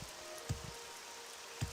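Steady rain falls in a video game world, a soft continuous hiss with a couple of brief low thumps over it; quiet and even throughout, with no one speaking.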